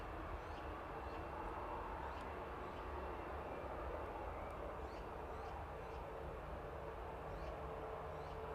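Fixed-wing aircraft taxiing at East Midlands Airport, heard as a steady, distant engine drone with a faint whine, holding level throughout with no voices over it.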